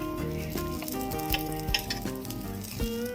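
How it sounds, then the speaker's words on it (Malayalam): Eggplant pieces frying in a pan with very little oil, a steady close sizzle with scraping and clinking as the pieces are turned over, no talk. "എല്ലാം ഞാൻ ഫ്രൈ ചെയ്യാനായിട്ട് ഇട്ടിട്ടുണ്ട്. പൊരിഞ്ഞിട്ടുണ്ട്. നമുക്കിതൊന്ന് തിരിച്ചിട്ട് കൊടുക്കാം."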